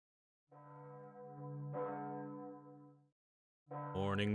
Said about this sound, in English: Morning bells.